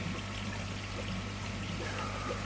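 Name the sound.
water pouring into koi pond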